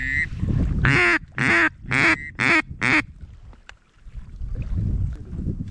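Five short, loud green-winged teal duck calls in quick succession, nasal and harmonic, followed by rustling and background noise.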